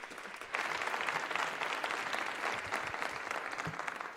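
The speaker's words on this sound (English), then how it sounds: "Let's clap hands to the President as he's taking over the session." An audience at a learner leadership summit applauds the President taking over the session, sustained crowd clapping after a brief quiet start, even and fairly close.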